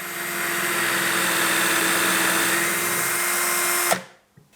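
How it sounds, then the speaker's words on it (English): A power drill bores steadily through round timber held in a Milescraft DrillMate guide over a sacrificial block, a loud continuous whine for about four seconds before cutting off abruptly into near silence. "put him onto there, lift him up a little bit, and then we can drill through here"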